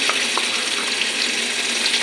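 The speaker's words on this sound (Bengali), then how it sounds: "দেখো আমার লঙ্কা সবগুলো ভাজা হয়ে গেছে এখন আমি পুরন দেব কাঁচা লঙ্কা বাটা" Green chili paste sizzles in a frying pan of hot oil, making a continuous loud hiss with a faintly watery, bubbling texture and no voices.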